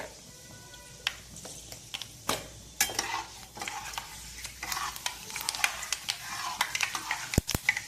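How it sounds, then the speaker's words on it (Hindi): Fenugreek seeds sizzle in hot mustard oil as a coconut chutney is cooked. Soft crackles and pops sound close up, mixed with stirring scrapes and a few sharp clinks of a utensil against the pan. "तेल गरम हो जाए अच्छे से, फिर इसमें मेथी दाना डालेंगे"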